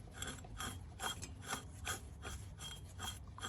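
Power steering pulley on a 1978 Jaguar XJ6 Series 2 barn find, spun by hand, giving a quiet, dry, scraping rasp that repeats in rhythmic pulses about twice a second.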